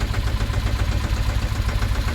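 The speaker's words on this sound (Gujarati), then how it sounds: "ટ્રેક્ટર ચાલુ કરી દીધું છે" A farm tractor's engine runs near a field of maize and watermelon, a steady low rumbling idle that holds unbroken and fairly loud throughout, with no talk.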